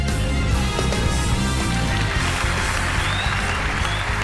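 Audience applause on a Turkish TV singing talent show after a performance, broad sustained clapping mixed with a dense musical and crowd backdrop, continuous and moderately loud.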